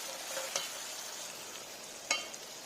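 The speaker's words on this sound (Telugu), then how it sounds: "టొమాటో ఇలా మొత్తం స్మాష్ అయ్యే వరకు పెట్టి ఫ్రై చేస్తూ ఉండాలి." Tomato frying in a pan for a Godavari-style fish curry, a faint steady sizzle with two brief sharp scrapes of a spoon stirring.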